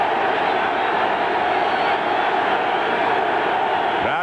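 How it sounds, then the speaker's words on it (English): A dense, continuous roar rises from a football stadium crowd at a 1991 Browns versus Steelers NFL game, loud and unbroken throughout. "Crowd noise"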